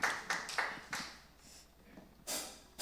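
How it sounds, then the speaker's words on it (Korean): A church congregation at a Korean Wednesday service gives several short, faint bursts of clapping, separated by quiet gaps, with a final louder burst near the end. "우리 선하신 주님께 감사와 영광의 박수 올려드립시다."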